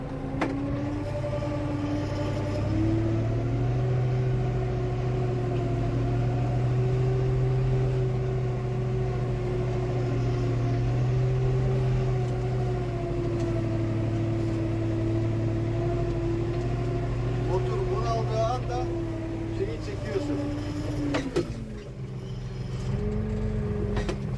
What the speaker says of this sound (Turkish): Motorun sesini dinle.